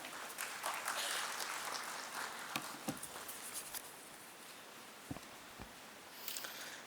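An audience at a bird festival on Chilika lake applauds in welcome, and the patter of many hands is heard at a distance, punctuated by a few sharp louder claps and thumps as the applause slowly thins.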